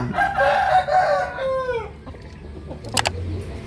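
A rooster crows loudly nearby, one long drawn-out call tapering off, followed by quieter farmyard background noise.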